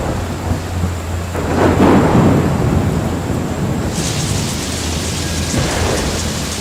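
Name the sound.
thunderstorm with heavy rain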